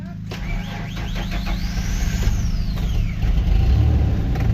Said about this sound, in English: That just started the truck without a battery in it.